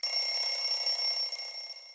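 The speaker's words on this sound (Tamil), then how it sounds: "நண்பர்களே, இந்த அலாரம் நீங்களும் கேக்குறீங்களா? இந்த அலாரம் எங்க அடிக்குது?" An electronic alarm rings steadily for two seconds, a continuous piercing high-pitched tone with bright layered overtones, fairly loud and close, with no talking.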